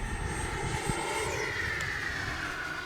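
An RC jet, a Havoc Xe, flies overhead with a steady whining turbine roar that holds at moderate distance, its high pitch sliding lower as it passes, with no voices over it.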